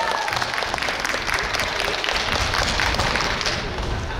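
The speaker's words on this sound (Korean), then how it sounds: "박수 한번 부탁드리겠습니다." Audience applause at a hot-spring festival song contest in Suanbo, a dense, steady burst of many hands clapping close and loud throughout.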